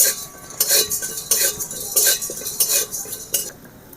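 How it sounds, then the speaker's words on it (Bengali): Rhythmic metallic scraping and clinking of a spatula dry roasting whole spices with a little salt in a hot pan, close and fairly loud with no talking. "মশলাটা ভালো করে ভেজে নিতে হবে"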